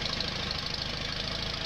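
A tractor engine running steadily while mowing in a farming video game, a close, even mid-low rumble with a fast knocking pulse, heard alone.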